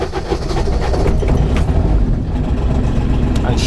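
Diesel truck engine idling in a driving simulator, with a steady, loud low rumble and a dense mechanical drone that stays even throughout.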